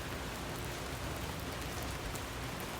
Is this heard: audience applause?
no